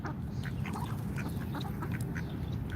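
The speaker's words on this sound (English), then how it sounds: "Look at Muscovy duck. Cool looking duck." Muscovy ducks and other ducks quack in a busy outdoor setting at a protest in Washington DC, with repeated short calls over a steady low background rumble and no talking.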